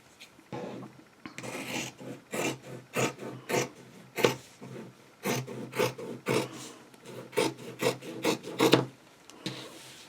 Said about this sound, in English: Alright, so let me trim around the edges.